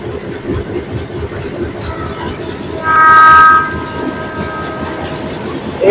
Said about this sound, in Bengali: ট্রেনটাকে দাঁড় করিয়ে দিয়ে ডবল ডেকারকে আগে বের করে দিল।